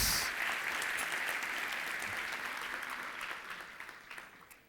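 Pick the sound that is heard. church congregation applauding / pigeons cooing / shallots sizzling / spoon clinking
church congregation applauding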